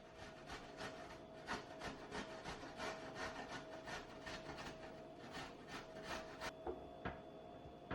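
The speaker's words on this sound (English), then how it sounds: "So we're going to just shred just a little bit, get the bigger piece, and just grate it up." A fresh carrot rubbed by hand against a grater with a steady rhythm of rasping strokes, quiet and close, with no talking over it.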